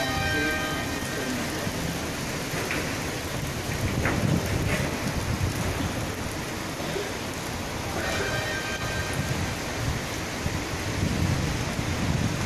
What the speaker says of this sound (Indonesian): saat ini sedang hujan di hotel tempat saya tinggal, di Hotel Alox di daerah Azizia